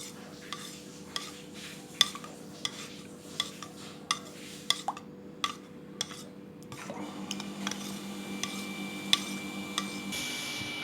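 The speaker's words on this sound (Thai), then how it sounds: "ใส่ไข่ขาวลงไปเลยครับ เดี๋ยวคนให้เข้ากันครับ" Egg white is stirred into rice porridge with a utensil, giving a soft, even run of clinks and scrapes against the bowl, with a low steady hum beneath.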